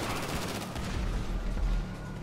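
Rapid gunfire from a shootout in the video game GTA 5 during a Humane Labs heist setup, a dense continuous burst of shots with booming low end lasting throughout, loud and close.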